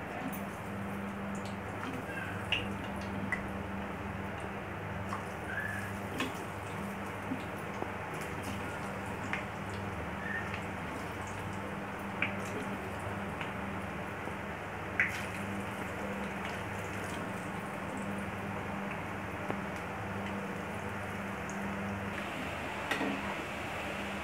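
French fries coated in besan sputter in hot oil in a pan on a gas stove, a steady soft bubbling hiss dotted with small scattered pops and no talking.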